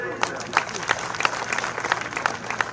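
A crowd at an outdoor political rally for a BJP candidate, addressed by Uttarakhand's chief minister, claps in scattered, uneven bursts, individual sharp claps standing out, while voices carry on over the clapping.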